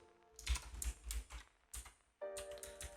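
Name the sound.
typing on a computer keyboard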